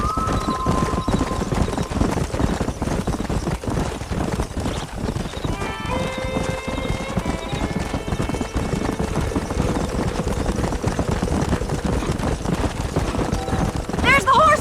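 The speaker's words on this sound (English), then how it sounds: "There's the horses!" Horses in the Red Dead Redemption video game gallop with loud, rapid, continuous clip-clop hoofbeats, with a whinny partway through, over game background sound and brief voices.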